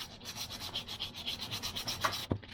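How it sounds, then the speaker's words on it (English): Sandpaper of 400 grit rubs back and forth over a fishing rod blank in quick, steady strokes, close and soft, ending with a sharp knock, and no one speaks. "Got some 400 grit sandpaper."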